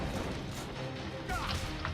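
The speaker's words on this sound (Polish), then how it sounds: "Ej, te puszki eksplodują." Cans explode in the video game Saints Row IV, giving a short burst of crashing, thudding blasts mixed with game effects. Players talk over the bangs.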